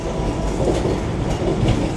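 A Vande Bharat train on the Bhopal route runs at high speed, producing a steady, loud, close rumble with faint rhythmic rail clatter and no talking.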